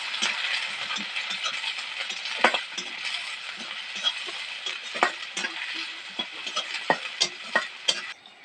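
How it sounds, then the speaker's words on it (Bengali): Onion lightly frying in a pan with nigella and mustard seeds, a bright continuous sizzle with frequent spoon clinks and scrapes that grow more distinct and rhythmic toward the end. "পেঁয়াজটা দিয়ে দেবো, দিয়ে একটু হালকা করে ভেজে নেবো।"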